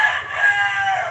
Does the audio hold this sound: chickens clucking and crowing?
yes